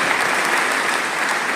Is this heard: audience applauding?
yes